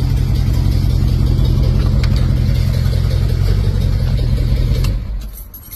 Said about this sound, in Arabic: خلونا ناخذه في تجربة قيادة الآن.